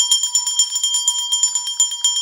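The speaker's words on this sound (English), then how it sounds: "Let's ring bell for all the Cameroonians in the house." A bright, high-pitched bell rings in a fast, steady series of repeated strikes, loud and close, with no talking over it.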